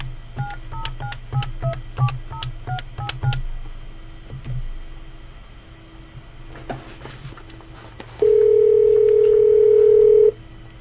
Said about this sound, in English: So I'm going to go ahead and call my cell phone.